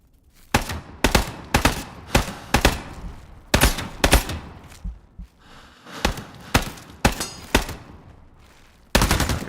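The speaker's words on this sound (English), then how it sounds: "High-powered rounds." High-powered rifle rounds fire in the VR shooter Into the Radius 2, a series of loud, sharp cracks, some single and some in quick pairs, spaced irregularly with short decaying tails and no talking.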